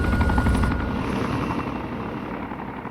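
A video game helicopter hovers with a steady, close rotor thrum and engine whine that holds level and fades slightly.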